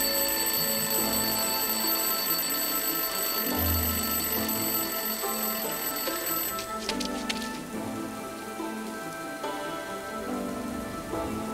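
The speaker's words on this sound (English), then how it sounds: "Okay, I'll place the alarm clock in the rubbish bin. Let's see what happens when it goes off." An alarm clock in the adventure game Lost Horizon rings steadily for the whole stretch, a loud, bright metallic jangle that sits over a constant ambient bed, with a brief low thump partway through.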